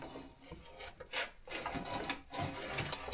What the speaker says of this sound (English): is this enough for us to slide the oil pan out?